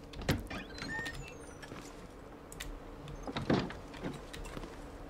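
A door opens in the survival video game The Long Dark, with a couple of short creaking, latching sounds standing out from a quiet, steady background, no voices over them.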